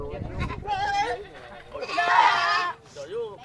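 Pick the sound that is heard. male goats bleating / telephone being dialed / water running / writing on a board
male goats bleating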